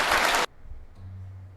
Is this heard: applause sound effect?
yes